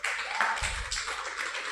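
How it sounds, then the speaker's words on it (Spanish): A church congregation clapping together, a dense patter of many hands through a short burst, with a deeper thump partway through. "Denles aplauso a Cristo."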